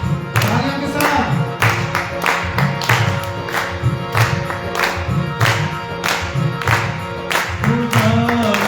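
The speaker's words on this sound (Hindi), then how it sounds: "तालियों के साथ" Congregation at a Sunday church service clapping in steady rhythm along with a worship song, regular sharp claps repeating about once per beat under music and singing.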